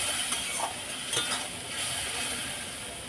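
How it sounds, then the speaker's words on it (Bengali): Biryani masala being stirred in a pan for hilsa biryani, a continuous sizzle with soft scraping strokes of the spoon over it, close and steady, with no talking. "বিরিয়ানির মশলা দিলাম এক চা চামচ মিষ্টি এক চা চামচ ভালো করে নাড়াচাড়া করে নিলাম"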